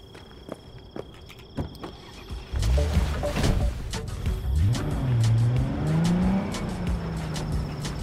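A car in Cyberpunk 2077 starts up partway through and drives on with a steady engine drone that rises and falls in pitch as it accelerates, close and fairly loud, with no one talking.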